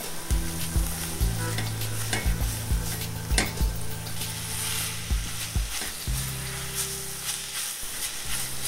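Pork being stirred with taco seasoning in a hot pan: loud, close frying sizzle with repeated scraping strokes of the spoon and occasional pan knocks, continuous throughout with no talking.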